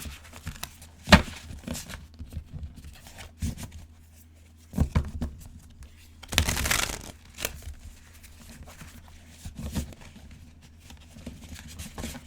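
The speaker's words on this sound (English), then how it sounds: "clearly I don't know how to shuffle" A deck of tarot cards is shuffled in short, scattered bursts of crisp riffling and slapping, close and fairly quiet, separated by near-silent pauses.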